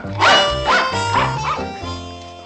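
Several dogs barking and yapping indoors in a sitcom scene, a run of four or five loud, close barks overlapping with whines, no talk over them.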